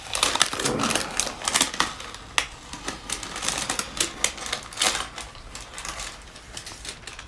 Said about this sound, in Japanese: このまだ塗料が柔らかい状態で マスキングは 剥がした方がいいですね